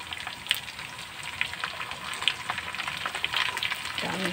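String beans (sitaw) sizzle and crackle steadily in a hot frying pan, a continuous close hiss with scattered small pops and no voices.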